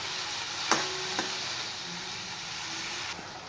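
Chalta fruit pieces frying in a pan with a small splash of water, giving a continuous close sizzle and hiss broken by a few sharp clinks and stirring scrapes.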